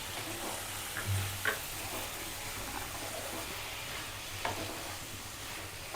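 Bengali poppy seed paste curry with mustard sizzles steadily in a pan while a spoon stirs it, with a few soft scrapes and clinks, close and quiet with no talking.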